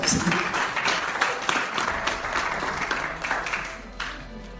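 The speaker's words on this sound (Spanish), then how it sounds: "Den una ofrenda de palmas a Dios." A church congregation claps together in a burst of sustained applause, loud and dense with no clear individual rhythm, tapering slightly toward the end.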